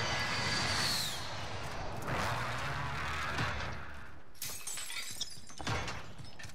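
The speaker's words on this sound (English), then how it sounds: "Is somebody breaking glass behind me?" Glass shatters in a video game, a sharp bright crash at the start followed by more breaking and crunching bursts later, set against game noise.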